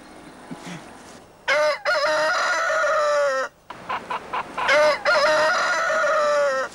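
A rooster on a farm crows twice, loud and close: two long, strained calls, each starting with short rising notes and separated by a brief pause.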